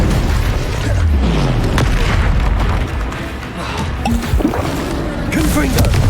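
The Incendio fire spell goes off in Hogwarts Legacy with a loud rushing whoosh and deep booming bursts, dense and continuous, layered among other combat effects and game sounds.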